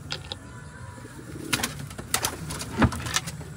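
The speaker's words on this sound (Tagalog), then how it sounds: "Alright, bird natin si Tamlay" A racing pigeon coos softly a few times at close range, with faint rustling and quiet background noise in between.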